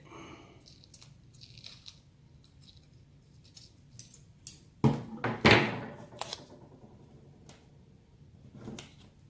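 Adhesive tape is pulled, snipped with scissors and wrapped around a Doberman puppy's ears, a few quiet rustles building to two louder, sharp tearing crackles midway before fading to soft handling noises.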